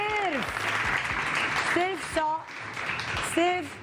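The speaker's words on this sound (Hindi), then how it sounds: "बोलने नहीं दे रहे तुम लोग, तालियां बजाए जा रहे हो" A studio audience on a Pakistani morning TV show claps steadily under a host's voice, the applause continuing as the host talks over it.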